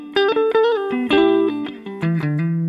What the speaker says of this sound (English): So this is the Shure SM57.